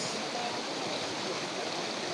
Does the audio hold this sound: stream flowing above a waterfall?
yes